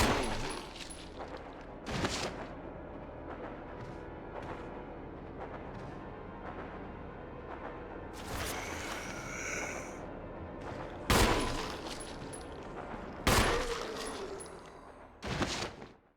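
Gunfire in the Resident Evil video game: several sharp, loud shots burst out separately across the stretch, a few seconds apart, over a steady layer of game ambience.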